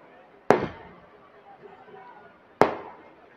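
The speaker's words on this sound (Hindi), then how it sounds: "जो लोग पटाखा फोड़ रहे हैं वो रुक जाएं।" Two sharp firecracker bangs about two seconds apart, each ringing out briefly over a murmuring crowd in the background.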